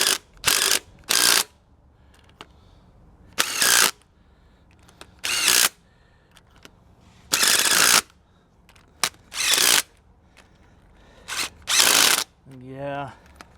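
A ratchet snugging down bolts on a GMC Warner Gear 5-speed transmission, heard as about eight separate loud bursts of rapid clicking with short pauses between, and a brief voice near the end.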